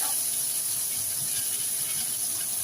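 Garlic hitting hot cooking oil in a pan, a steady close sizzle hissing evenly throughout.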